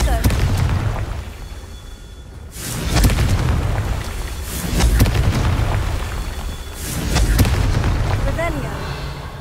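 Confringo fire spell blasts from Hogwarts Legacy, several deep booming explosions in succession, loud and close, with a voice heard between them.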